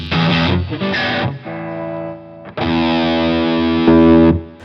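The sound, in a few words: electric guitar through LPD Pedals distortion pedal, clip setting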